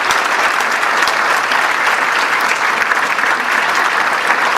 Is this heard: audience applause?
yes